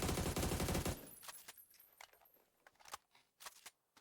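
Rapid automatic AR spray in PUBG on PC, a dense burst of gunfire for about a second, followed by scattered single clinks and clicks of spent casings and movement.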